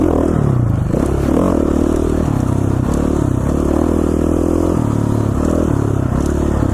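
A KTM 450 XC-F dirt bike runs steadily and loudly while being ridden, its engine note rising and falling with throttle under continuous rattle and scrape.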